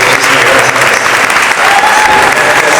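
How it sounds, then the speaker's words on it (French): Warm, sustained applause from an audience at a commemorative evening event, a dense, loud, steady wash of clapping filling the room throughout with no gaps. "Pour l'applaudir encore plus chaleureusement, s'il vous plaît, porte l'applause."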